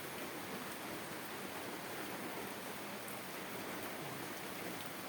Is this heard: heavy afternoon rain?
yes